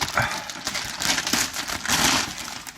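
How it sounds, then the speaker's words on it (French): Packaging from a Transformers toy set of Autobot figures crinkles and crackles as it is unboxed, a close, continuous rustle with brighter bursts of crumpling, with no talking. "Donc on déballe tout ça"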